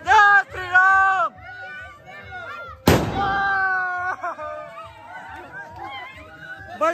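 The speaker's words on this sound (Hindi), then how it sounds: "बड़ा बम बड़ा धमाका और दूसरी लड़ निकल चुकी है" A sharp firecracker bang bursts out partway through a celebration of Ram's arrival amid excited shouting and chatter from a crowd.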